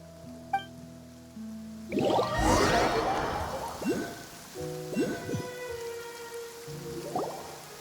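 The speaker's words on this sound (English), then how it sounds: "It's been raining non-stop for a few days now." Steady rain in Genshin Impact, a continuous broadband hiss of falling water that swells after the opening seconds, with melodic game music playing over it throughout.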